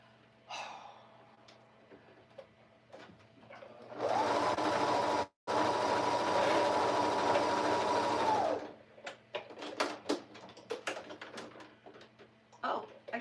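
A home sewing machine running a blanket stitch in a steady, fast whir of about four seconds, close by and loud, framed by breathing and quiet handling noises.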